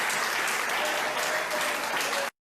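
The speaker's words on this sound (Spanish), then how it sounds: "Dele un aplauso fuerte al Señor." A church congregation applauds during a sermon, a dense, steady burst of clapping filling the room for about two seconds before cutting off abruptly.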